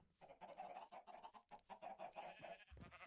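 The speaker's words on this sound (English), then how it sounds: "We have chickens for feathers and eggs, and we have sheep for wool and one lonely cow." Minecraft farm animals in pens, chickens with some sheep and a cow, clucking in quick repeated bursts at close range over a few seconds, quiet overall with no talking.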